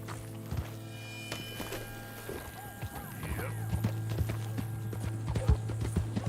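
In the Red Dead Redemption video game, horse hooves clip-clop at a steady walking pace under a constant low hum, with sparse thuds and faint background game sounds.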